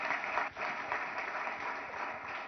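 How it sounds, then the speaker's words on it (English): Audience applause at the CII Telangana State Annual Meeting 2022-23, a steady, moderately faint wash of clapping from a seated crowd that dips briefly near the start, then continues evenly. "I think he deserves a huge round of applause."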